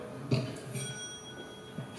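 A brief bell rings once at a candidates' meeting to signal that a speaker's time is up, fairly faint against room ambience.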